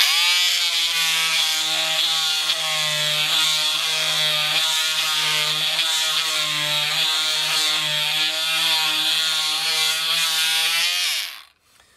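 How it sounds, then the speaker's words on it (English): A power multi-tool buzzes steadily for about ten seconds with a harsh, rasping hum as it sands beech wood with P80 grit, then winds down and stops. "I'll start with the beech first of all, and I'll just do a small amount of sanding."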